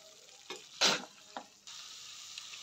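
Paneer fried with masala in a pan for paneer masala, a steady hiss broken by a few sharp scraping stirs of the spoon, close and fairly loud.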